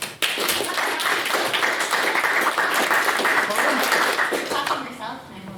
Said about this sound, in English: So we'll clap then